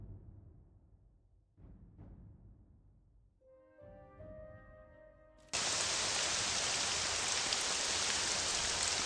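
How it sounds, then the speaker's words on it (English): Rain in The Elder Scrolls game, a sudden loud wash of dense hissing downpour that switches on partway through after quieter ambient tones and stays steady to the end. "Well, that rain doesn't sound good."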